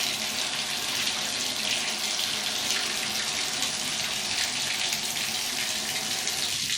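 Water pours steadily from a Delta tub spout into a bathtub, a loud continuous hiss and splash that holds unbroken, with no talking.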